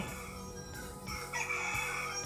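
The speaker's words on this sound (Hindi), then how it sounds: "अभी तो कंपटीशन चल रहा है कि किसके मुर्गे का कुकड़ू अच्छा है" Roosters crow against each other in a loud, drawn-out cock-a-doodle-doo over a short stretch, with no voices heard.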